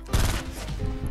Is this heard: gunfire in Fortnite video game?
yes